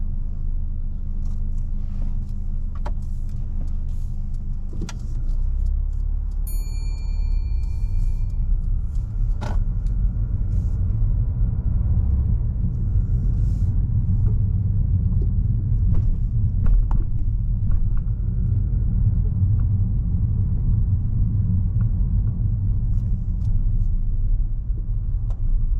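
A car pulls away during a driving lesson: steady low engine rumble and road noise that builds gently and holds for the whole stretch, with a few small clicks and knocks inside the cabin and no talking.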